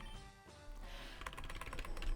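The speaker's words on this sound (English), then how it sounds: "Just hear me slamming on my keyboard" Fast, hard typing on a computer keyboard, a quick run of close, distinct key strikes that grows denser and louder toward the end.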